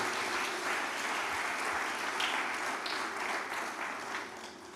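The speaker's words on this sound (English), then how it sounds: "I want us to give a very special round of applause to Aradna Wallace" Conference attendees give a round of applause at a tourism resilience gathering, a steady, even wash of many hands clapping that is heard from a distance and fades slightly near the end.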